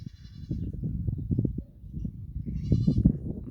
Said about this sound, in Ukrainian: Там у нас сусіді і кози гуляють.